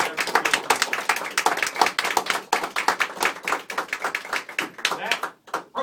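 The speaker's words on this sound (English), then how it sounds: "I also ask my guests to join me in a round of applause" Guests at a Navy swearing-in ceremony clap together, a crisp, distinct patter of individual hand claps from a small group, close and loud, thinning out and stopping near the end.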